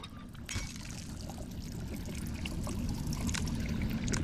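Water pours and drains steadily from an escape pod in the VR game I Expect You To Die, a continuous close gushing and trickling wash that holds for the whole stretch without any voices.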